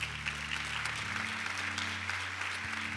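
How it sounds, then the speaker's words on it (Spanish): A church congregation applauding during a sermon, a continuous roomy wash of clapping over a steady low hum, moderately loud throughout. "darle un aplauso al Señor"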